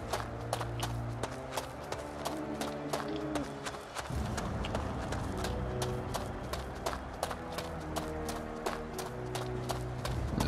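Horse hooves clip-clop steadily in the fantasy video game Two Worlds 3, a continuous running rhythm layered over game music and ambience for about ten seconds.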